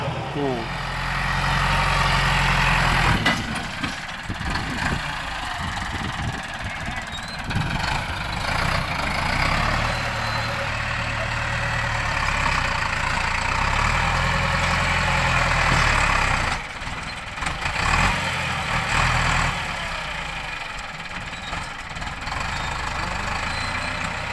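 A Ford New Holland TS90 tractor engine runs with a steady low diesel rumble that swells and eases in a few revving surges, close and loud, with voices talking over it outdoors.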